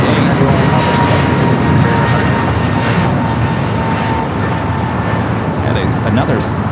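A Bombardier Global Express business jet arriving at LAX from Teterboro, a loud, steady engine roar throughout with a faint whine, the aircraft close and constant while a voice talks over it.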